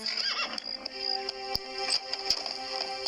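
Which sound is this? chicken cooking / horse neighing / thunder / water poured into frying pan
horse neighing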